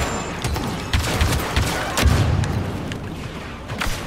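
Star Wars Battlefront 2 firefight: rapid volleys of blaster fire crackle throughout, punctuated by a few heavier thuds of grenade explosions, loud and close with no voices.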